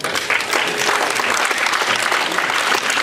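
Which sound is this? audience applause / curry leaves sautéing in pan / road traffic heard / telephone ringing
audience applause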